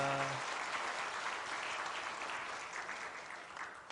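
A church congregation at a Sunday service in Cheorwon claps for the children of the church school, a dense, steady applause filling the room, with a brief voice at the very start before the clapping takes over and slowly thins.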